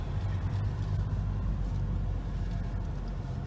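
A car drives slowly around a caravan campsite in Kendal, its steady low engine rumble and road noise close and continuous, with no voices.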